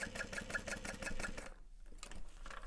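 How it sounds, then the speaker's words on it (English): A sewing machine stitches a handbag side panel in a fast, steady mechanical whir of even pulses, then pauses and resumes, heard close and alone. "I'm gonna sew"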